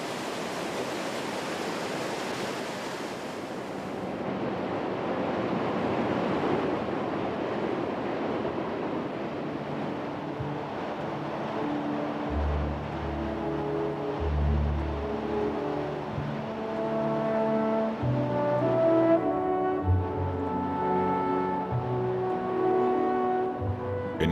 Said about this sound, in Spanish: En una caída sin fin, las aguas arrastran un tremendo caudal de 600 metros cúbicos por segundo.